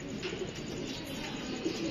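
Soft pigeon cooing, a low murmuring call repeated a few times over a steady background hum.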